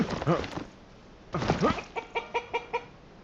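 A chicken in the video game Chinese Frontier gives several loud, close clucks, then a quick rhythmic series of short clucks, with no talking.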